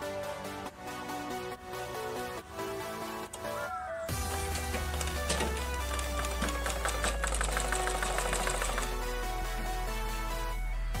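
A sewing machine stitches baby frock fabric, starting after a few seconds of music-like tones and then running in a steady, close, continuous whir with fast rhythmic needle ticks.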